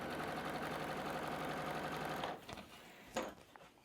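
A sewing machine stitches fabric squares for a quilt block in a fast, even, close whir, then stops after a couple of seconds, leaving a few soft handling clicks and rustles.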